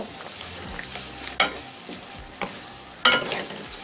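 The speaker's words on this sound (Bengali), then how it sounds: "এখন আমি পাঁচ মিনিট মশলাটাকে কষিয়ে নেব" Spice masala being fried for a fish curry, a low sizzle broken by a few distinct scraping strokes of a spoon across the pan, close by.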